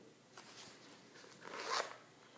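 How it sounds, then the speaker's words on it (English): A smooth zipper slides open on a calf hair foldover clutch, a brief soft rasping pull that builds over about two seconds, close and quiet with no talking. "it has a nice smooth zipper. It's like butter, it just glides right over."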